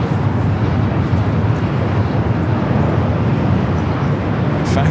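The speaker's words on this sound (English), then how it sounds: "we got that Air Tahiti Nui Flight 7 heading back to Papa Ete, the Dreamliner, heading up now for a north side at takeoff" An Air Tahiti Nui Boeing 787 Dreamliner taking off from LAX, a loud, steady, broadband jet roar that holds without break, with no voices over it.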